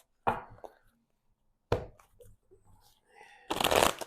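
Tarot cards are shuffled in three separate bursts of riffling and rustling, fairly close, with short quiet gaps between them and the last burst the loudest.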